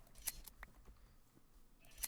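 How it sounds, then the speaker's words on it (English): Shears clip wool from a blue sheep in Minecraft, giving two faint, quick snipping clicks near the start and end over a quiet background. "It's always a good idea to just shave your sheep every so often,"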